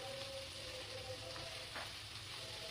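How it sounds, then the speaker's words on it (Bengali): Whole garlic, ginger and chillies frying in a pan give a soft, steady sizzle, faint and continuous with no voices. "একটু ভাজা ভাজা হয়ে যাবে"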